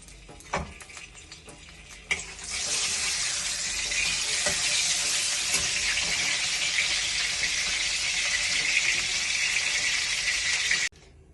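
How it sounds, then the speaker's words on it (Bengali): Two bay leaves dropped into hot cooking oil for tempering in a Bengali vegetarian cabbage dish, giving a steady, bright sizzle that starts after a couple of soft clinks and runs close and continuous until it stops abruptly near the end. "এবার তেলটা গরম হয়ে গেছে, এতে দিয়ে দেবো আমি 2টো তেজপাতা"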